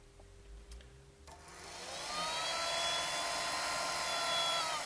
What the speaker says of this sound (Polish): Dmuchawa zatem działa.